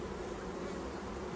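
Honey bees hum in a dense, continuous buzz around the hives in a botanical garden, steady and close, with no voices.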